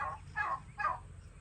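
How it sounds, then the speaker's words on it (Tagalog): Three short, faint gobbling calls of a turkey in quick succession, over a low background hum. "Hindi, pabo yan."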